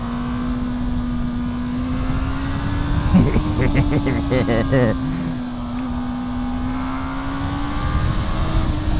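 A Honda CB1000R motorcycle engine drones steadily as the bike pulls out of a corner, a sustained loud hum with a brief rise in revs, under continuous wind rush.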